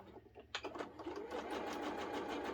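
A sewing machine stitches a straight seam along the border of a quilt block. It starts with a few slow stitches, then settles into a steady, fast, even whirring hum, quiet and close, with no talking.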